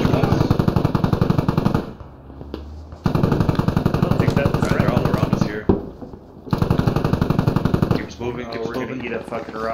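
An LAV armored vehicle firing in a military shooter game: long, loud bursts of rapid automatic cannon fire in three stretches, broken by short pauses, with voices talking over it.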